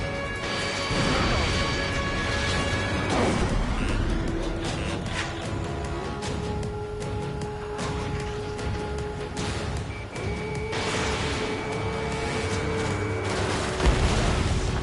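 Missiles exploding in the combat flight game Ace Combat 7, under a dense, continuous roar of jet noise and game music, with heavy booms and crashes throughout.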